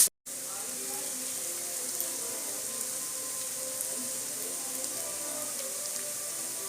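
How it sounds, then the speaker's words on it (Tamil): Finely chopped onions sautéing in a pan for chicken kulambu give a soft, even sizzle that runs steadily and fairly quietly throughout after a brief clatter at the start. "நாங்கள் இப்போ வெங்காயம் நல்லா வதக்க விட்டுடலாம்."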